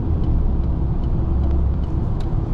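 A 2023 Peugeot 208 with the 1.2 engine and EAT8 automatic accelerates hard, giving a steady loud in-cabin engine roar and road rumble with no talk over it.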